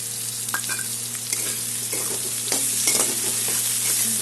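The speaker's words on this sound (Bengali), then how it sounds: "পেঁয়াজটা অল্প ভাজা হবে" Onion frying in a pan with salt, a tomato just added, sizzling steadily at close range with the scrape and clink of stirring breaking through now and then.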